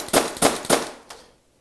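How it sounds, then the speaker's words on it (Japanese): A Tokyo Marui LCP gas airsoft pistol firing: three sharp, loud, evenly spaced cracks in quick succession, then a fourth slightly softer shot after a short pause, ending in silence. "小気味いい感じの発砲音"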